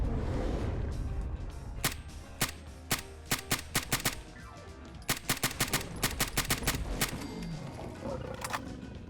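M1 Carbine rifle fire in Fallout 4, sharp semi-automatic shots in irregular bursts of rapid single cracks with brief pauses between, loud and close over a low game background.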